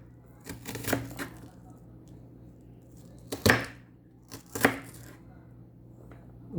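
A knife chops onions finely on a board, with a few sharp separate knocks spaced apart in a quiet kitchen and no talk.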